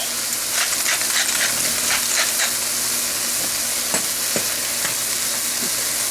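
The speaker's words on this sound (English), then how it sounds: "we're just going to cook these until they get nice and translucent" Vegetables seasoned with pepper and salt sauté in a pan for sloppy joes, a steady, bright sizzle close by, broken by occasional clicks and scrapes as they are stirred.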